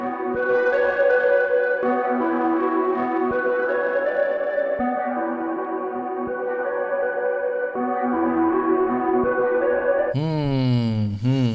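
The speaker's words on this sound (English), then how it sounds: "Let's add some distortion to it to like make it really dirty." A synth beat with a gritty, buzzing distorted tone plays in a steady rhythm, ending with a sharp sweeping pitch slide.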